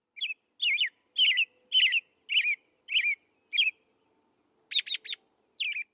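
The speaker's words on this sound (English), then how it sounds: "that's the song of the American robin" An American robin sings alone in clear, close phrases: about ten short warbled carols separated by brief pauses, bright and loud against silence.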